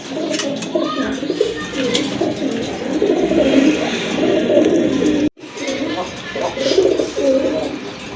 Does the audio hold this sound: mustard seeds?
no